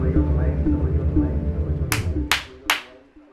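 Three sharp, loud hand claps in quick succession, each crisp and close, following a stretch of low talk in a podcast studio.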